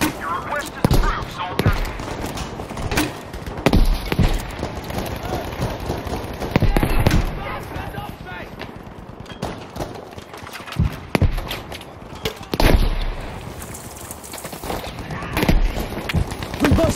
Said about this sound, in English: Requesting a smoke barrage on this location.